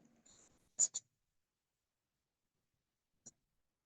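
A pen scratches on a board or paper while a marketing plan is written: a faint stroke, then two quick, close scratches and a single short stroke after a long pause, alone in otherwise quiet surroundings.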